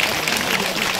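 Applause from an audience at a celebratory felicitation event, a steady dense wash of many hands clapping together throughout, moderately loud with no break.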